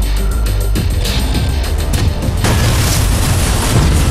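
Grenade blasts rumble in the video game Watch Dogs, with heavy booming low-end explosions and crackling debris under game sound, loud and continuous.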